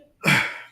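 A single sharp sneeze, close and fairly loud, bursting out suddenly after a moment of quiet and trailing off quickly.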